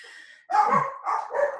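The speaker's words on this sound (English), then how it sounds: "excuse my dogs" Dogs barking indoors in three quick, fairly close barks, heard alone with no talking over them.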